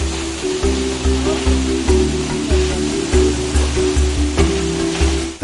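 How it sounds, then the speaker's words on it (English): The Sipi Falls waterfall in Uganda roars as a loud, continuous wash of rushing water, heavy and unbroken, with a pulsing low-pitched layer running beneath it. "magnificent roar of the Great Shebonet Waterfalls"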